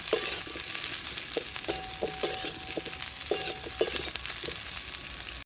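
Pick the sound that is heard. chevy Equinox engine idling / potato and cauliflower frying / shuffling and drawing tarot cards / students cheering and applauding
potato and cauliflower frying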